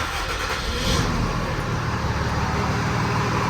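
Cummins 5.9L diesel truck engine running after priming, a steady loud low rumble with a rough clattering rhythm throughout and no talking.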